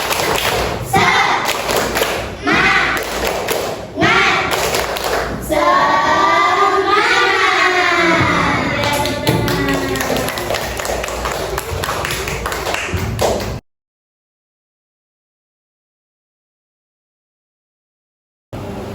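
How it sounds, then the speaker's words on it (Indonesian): A third-grade maths class performs the tepuk semangat rhythmic clap, children's hands beating loud, steady patterns in time while their voices chant along, then everything stops abruptly into silence. "Ice breaking dengan tepuk semangat"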